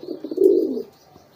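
A pigeon in a coop gives a single soft, throaty coo up close, a few short pulses swelling into one longer rolling note, then falling quiet.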